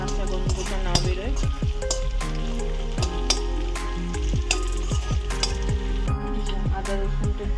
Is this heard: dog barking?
no